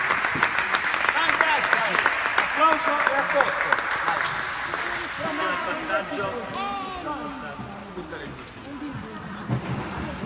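Audience applause for a performing group at a 2018 dance stage event, steady broad clapping from a crowd mixed with cheering voices and chatter, sustained throughout and easing slightly toward the end.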